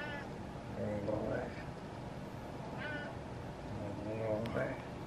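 A cat meows several times in short harmonic cries spread across the stretch, fairly close, over steady background noise and a person talking.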